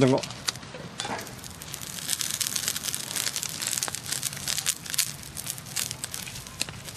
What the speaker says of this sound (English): I'm going to put some uh, green onions to cook in there just to uh, help season the wok as well